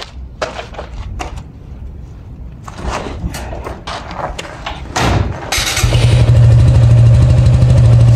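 A Suzuki Gixxer SF motorcycle pulls into a garage amid scattered knocks and clatter, then its engine runs steady and loud, a close, low, pulsing idle.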